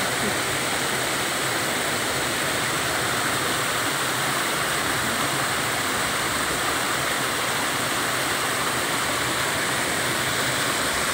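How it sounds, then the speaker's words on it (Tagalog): Loud, constant rushing of falling water, a dense even hiss that fills the whole scene without letting up. "agos ng tubig."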